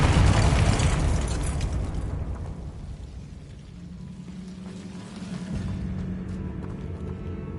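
A Confringo blasting spell explodes in Hogwarts Legacy, a loud broad boom at the start that rumbles and fades over several seconds, followed by a lower steady roar and smaller crackling bursts.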